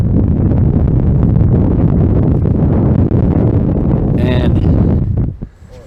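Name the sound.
wind on a mountain summit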